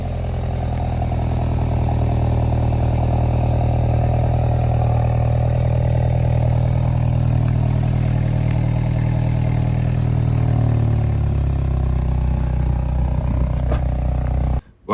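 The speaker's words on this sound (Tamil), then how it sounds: "இந்த காரோட எக்ஸாஸ்ட் நோட்டை மட்டும் கேட்டு வந்துடுங்க." BMW X3 xDrive30i M Sport exhaust note, a steady deep idle hum with a low rumble that shifts slightly near the end before cutting off abruptly, heard alone with no talking.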